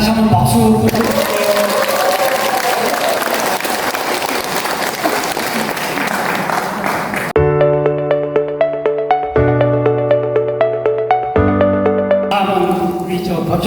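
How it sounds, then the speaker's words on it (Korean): Audience applause at a Buddhist workshop gathering, dense and loud for several seconds, then giving way to bright sustained electronic tones as the clapping stops. "다시 한번 박수 부탁드립니다."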